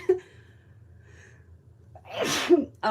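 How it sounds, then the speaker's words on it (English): A single sharp sneeze near the end after a quiet pause, with a brief inhale leading into it, close and clear. "I'm gonna sneeze, hang on"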